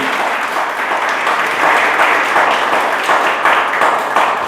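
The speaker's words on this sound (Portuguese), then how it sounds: "Então aplaude Jesus, aleluia." A church congregation applauds during an evening service, a dense, steady wash of many hands clapping, loud and sustained throughout, with no voices standing out.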